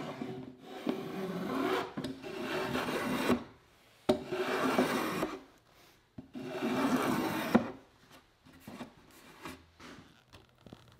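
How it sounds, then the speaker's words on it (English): Repeated bursts of rasping, shaving strokes as a block plane shapes the underside of a wooden bench seat, three long passes separated by brief pauses, close and fairly quiet with no talking. "I'll use a block plane to shape the bottom of the seat"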